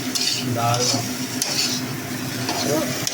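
Mutton sautéing in a pan on a home stove, with a soft steady sizzle and a spoon scraping and stirring against the metal, while a person talks over it.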